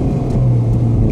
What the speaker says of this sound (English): I'm pretty sure that you can hear the engine